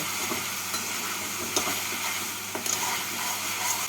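Sugar and grated coconut stirred into a spice mix in a pan for a radish and coconut ghonto, with a steady sizzle and a few soft scraping strokes of the spoon, close and continuous.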